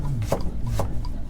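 A knife chops spring onion on a chopping board at an outdoor history festival, giving a few sharp, close knocks spaced unevenly over a steady low background rumble.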